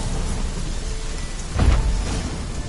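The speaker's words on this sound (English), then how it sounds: "A storm, damn it." A rainstorm in The Witcher 3, with a steady wash of heavy rain and a low rumble of thunder swelling midway, loud and close with no voices.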